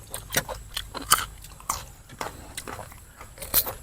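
Close, loud crunching bites and chewing of spicy, sour Isan-style pork larb loaded with crispy pork skin. The crunches repeat irregularly throughout, with no talking.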